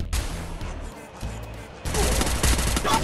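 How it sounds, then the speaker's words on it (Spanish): Gunfire in a video game, bursts of rapid shots and blasts, quieter at first and then a dense, loud barrage in the final second, with low engine-like hum underneath. "disparo. Wukong, disparo"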